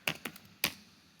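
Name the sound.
typing on a computer keyboard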